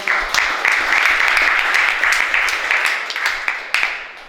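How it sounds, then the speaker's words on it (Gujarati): Warm applause from a gathered crowd at a cow shelter event welcoming a 96-year-old woman named Kumudben, dense steady clapping that tapers slightly toward the end. "તો પહેલાં એકવાર એમને તાળીઓથી બધા વધાવી લો"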